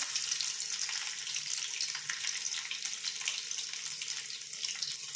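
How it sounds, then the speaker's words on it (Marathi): Mustard seeds, cumin and chopped garlic hit hot oil in a pan, producing a steady, fairly loud hissing sizzle with fine crackling spatters, heard alone without voices. "तर आता आपण टाकूया मोहरी, जिरे, लसूण कट केलेला"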